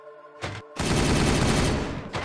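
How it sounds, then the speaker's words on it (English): Sustained gunfire from a Space Marine squad in a Warhammer 40,000 Regicide battle between Dark Angels and Ultramarines: a dense, continuous burst of shots that rolls on for over a second, framed by short bursts before and after. "Open fire!"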